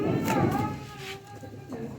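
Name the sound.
Kasuri pigeon cooing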